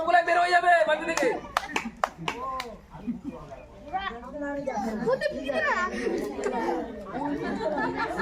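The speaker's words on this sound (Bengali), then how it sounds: "জোরে একটা হাততালি" Children's group game in a village setting: loud hand clapping from several kids in bursts near the start, mixed with excited chatter and children's voices throughout.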